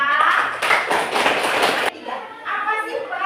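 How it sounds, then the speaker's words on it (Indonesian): Students clapping for a classmate in a classroom, a loud burst of many hands for about two seconds that cuts off abruptly, followed by a voice speaking. "Oke, beri tepuk tangan untuk Ocha."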